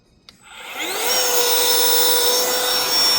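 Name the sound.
camp light air pump blowing air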